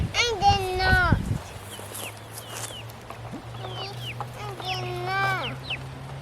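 Chickens cluck and squawk nearby in repeated bursts, over a low steady hum in the background.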